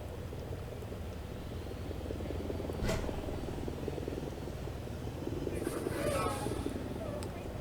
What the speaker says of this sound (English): Every time I hear helicopters like this, I would run out and try and see it.